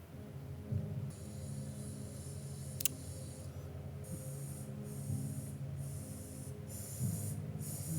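Lubricant such as WD-40 is sprayed onto a bicycle in several short hissing bursts, repeated at a steady pace over a constant low hum.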